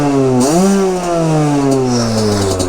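A 50cc motorcycle engine revs up hard, its pitch climbing steeply and then holding a high, buzzy whine close to the listener, loud and unbroken with no talking.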